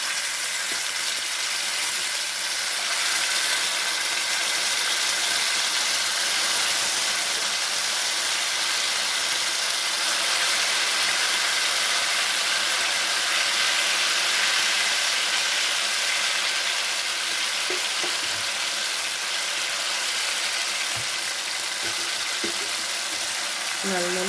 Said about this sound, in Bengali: তেলের মধ্যে এখন আমি ভেজে নেব